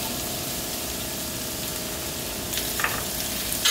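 Garlic sizzling in a pot of stewed string beans with onion and black pepper, a steady low hiss throughout that grows a little louder with faint clinks near the end.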